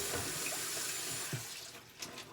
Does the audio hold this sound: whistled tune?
no